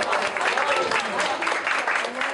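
Staff applaud as a recovered coronavirus patient is discharged from a Bilecik state hospital in Turkey: dense, steady clapping from a small group nearby, with voices mixed in.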